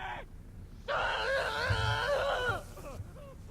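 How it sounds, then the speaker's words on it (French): A man's drawn-out, strained scream rises and wavers for about two seconds in the Batman Arkham Asylum video game, loud against a quiet background, with shorter cries before and after. "Regardez ce salaud crier."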